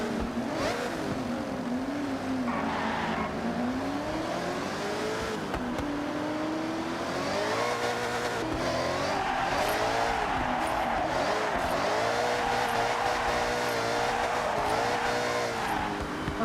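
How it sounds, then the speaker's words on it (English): Supercharged car in the Forza Horizon driving game during drifting: a revving engine with a rising and falling supercharger whine that follows the throttle, mixed with tire squeal, continuous and fairly close. "That supercharger tone though."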